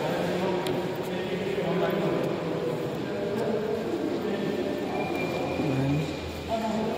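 Train rumble and rail noise at a railway station on the Lugoj to Timisoara route, a continuous loud mechanical roar with faint squeals, under people talking.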